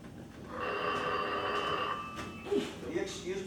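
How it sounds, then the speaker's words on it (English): Old-fashioned telephone bell ringing in an early radio or film drama, a sustained metallic ring for about two seconds at moderate level, followed by faint speech-like sounds and background noise. "Will you excuse me while I answer this phone?"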